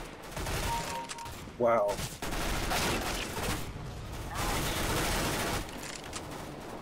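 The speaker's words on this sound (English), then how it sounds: "He has a freaking shotgun." Shotgun fire in the game Counter-Strike: Global Offensive, a loud burst of gunfire around the second mark amid continuous in-game battle noise, with a voice briefly reacting.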